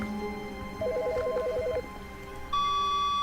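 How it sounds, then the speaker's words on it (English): An office telephone rings in The Stanley Parable video game, a quick warbling electronic trill lasting about a second against a quiet ambient hum, then a steady tone begins. "Wait, there's a phone."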